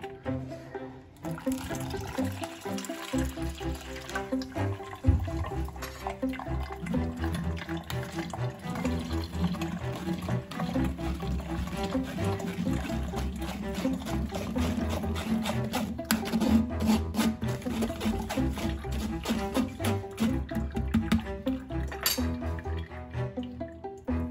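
Water is poured in a thin stream through a strainer while a ground almond and milk sharbat drink is strained, giving continuous trickling and splashing with a few faint clinks, with no talk.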